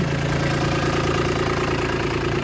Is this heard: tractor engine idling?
yes